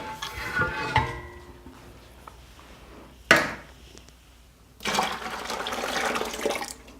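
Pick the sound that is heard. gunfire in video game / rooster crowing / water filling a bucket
water filling a bucket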